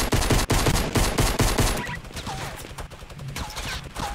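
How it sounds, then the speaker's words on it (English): Minigun firing in Fortnite, a rapid, loud, continuous stream of shots that thins into scattered bursts toward the end. "Minigun"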